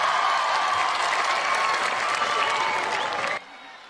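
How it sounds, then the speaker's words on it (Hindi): Dense audience applause at a poetry recital, many hands clapping steadily and loudly before cutting off abruptly near the end. "इतनी अच्छी तो भारत की सेना परेड नहीं करती जितनी अच्छी आप ताली बजा रहे"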